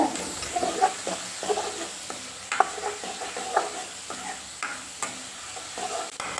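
Chopped onions sautéing in oil in a pan, with a low continuous sizzle under repeated close scraping and clacking strokes of a spoon stirring them.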